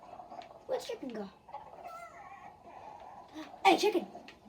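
A chicken clucks in Fortnite, a couple of short clucking bursts, one early and a louder one near the end, heard close over faint game ambience, with a voice talking in between.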